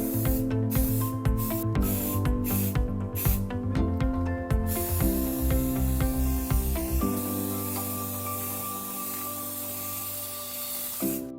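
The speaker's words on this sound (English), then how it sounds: "it's time to prime" Primer being sprayed from a can onto sanded wheelbarrow parts, heard as short hissing bursts in a quick series, followed by a longer hiss, all set against steady background music.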